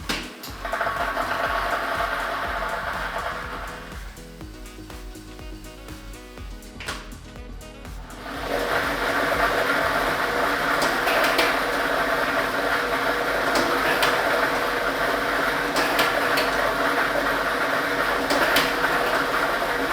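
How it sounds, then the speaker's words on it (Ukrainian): Lottery draw machine for the Loto Maksyma televised draw running, a steady whirring and rattling of tumbling balls that starts loud, dips briefly, then continues dense and constant to the end with no talk. "І ми вмикаємо лототрон."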